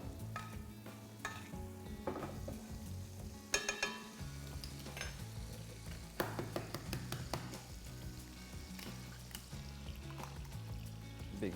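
An egg fries in a generous pool of hot oil in a pan while it is basted. A steady sizzle runs throughout, with scraping and spooning sounds and a few sharp spattering pops, and no talking.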